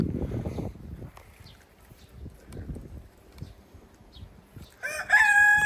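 A rooster crows once near the end, loud and close, after quiet shuffling and faint background noise.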